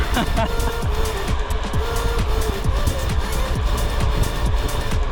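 Car driving off on a road, engine and road rumble loud and continuous from close inside the vehicle, with a voice talking over it.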